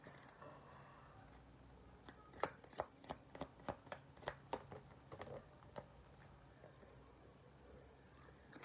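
A deck of soul truth cards is shuffled in a quiet room, a quick run of crisp, closely spaced riffling snaps lasting a few seconds, faint and close.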